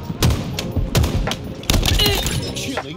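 Bandit Rifle fire from a sci-fi shooter game, several sharp close-range bursts with cracking, shattering impacts, dense and loud, with a brief thumping hit mixed in.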